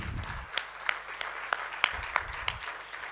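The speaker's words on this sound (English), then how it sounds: "A round of applause for Yaki" Audience at a women's leadership event applauding a speaker, a brief patter of separate claps over a low room murmur, fairly sparse and moderate in level.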